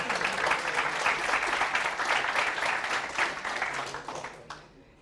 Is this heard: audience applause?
yes